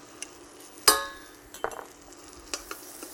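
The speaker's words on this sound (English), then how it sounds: "You can hear that sizzle." Creole seed mustard cooks in butter in a non-stick pan, a quiet sizzle broken by a sharp clink of a utensil against the pan and a few lighter stirring taps.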